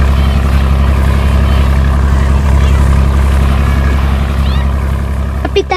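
A motorboat engine on a lake or river where children and families swim and ride in launches, heard as a loud, steady low drone that runs throughout, with a brief disturbance near the end.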